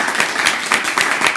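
An audience at a Christmas festival applauds in a quick burst of close, steady clapping, with no voices over it.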